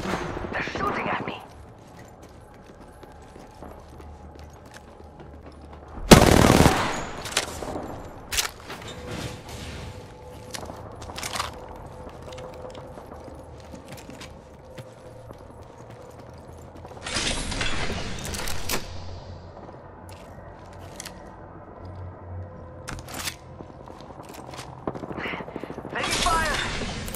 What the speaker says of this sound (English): Enemy real close. About time we got ourselves a fight. Engaging! They're shooting at me!